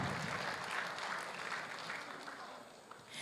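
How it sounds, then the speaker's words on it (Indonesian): An audience at a public election debate for mayoral candidates applauds the panelists, steady dense clapping filling the hall for a few seconds without voices. "Sekali lagi boleh minta tepuk tangan yang meriah untuk tim panelis kita."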